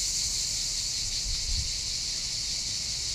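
Cicadas drone in maritime pines by a quiet quay near the sea, a continuous high buzzing chorus that holds steady, with a faint low rumble passing briefly underneath.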